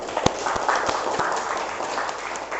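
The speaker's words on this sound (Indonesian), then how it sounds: "Sekali lagi kita beri tepuk tangan pada kelompok 2." A classroom audience applauds a student group, with dense, steady clapping throughout at moderate volume.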